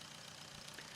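A car engine startup effect in an FMOD sound-design demo settles into a quiet, steady low idle rumble with a faint hum, very soft and alone for about a second.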